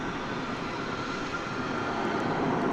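A passenger jet at DFW Airport, just arrived after a long flight from the Southern Hemisphere, gives a steady broadband engine roar, constant and fairly loud, with no voices.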